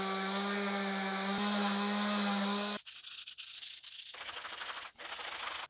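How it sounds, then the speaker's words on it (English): Random orbit sander working over wood pieces for a small rack build: a steady, loud whirring hum with a sanding hiss that cuts off partway, followed by close scraping and rubbing of the pad against the wood. "I'm going to give everything a sanding with the random orbit sander"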